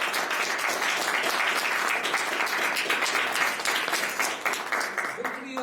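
Steady applause from an audience at a book presentation, sustained clapping for several seconds that thins out at the end, with some murmuring voices underneath.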